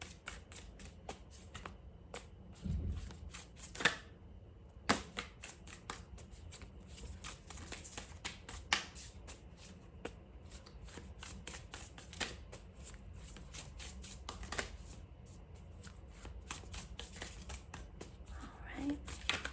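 Tarot cards are shuffled close by in quiet, rapid riffles and soft slaps, with short pauses between bursts.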